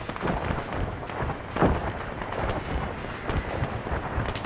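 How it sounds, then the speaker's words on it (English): Rockets firing in the video game Arma 3, a rumbling, continuous barrage of launches and booms with repeated sharp cracks spread across a few seconds, heard without talk. "Oh, look at all those rockets he's firing."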